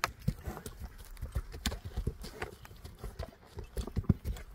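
Horse hooves at a horse market, with irregular clip-clop thuds close by on hard ground as the animal shifts and steps, mixed with general market background noise.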